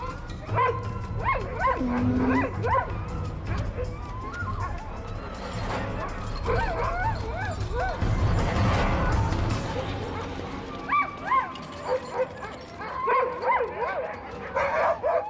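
Sled dogs in an Arctic pack bark, yip and whimper in repeated excited bursts at close range, with a narrator's voice speaking over parts of the commotion.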